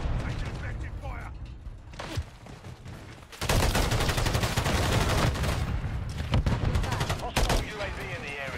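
Heavy bursts of automatic gunfire in Call of Duty Modern Warfare 3 multiplayer: sporadic shots at first, then a loud, sustained rapid-fire stretch with more shots near the end, mixed with game voices.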